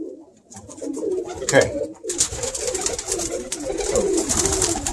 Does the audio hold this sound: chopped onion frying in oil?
no